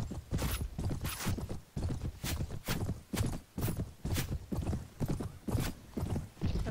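A horse in the medieval combat game Mount & Blade, a wounded mount, moves in rhythmic hoofbeats, regular clip-clop thuds in steady groups, fairly close and clear with no voice over them.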